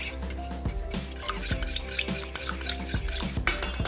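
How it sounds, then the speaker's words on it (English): Lemon juice and sunflower oil being whisked together in a bowl, fast rhythmic clinking and splashing strokes repeating steadily up close over a low hum, with no speech. "so we're gonna give it a right whisk"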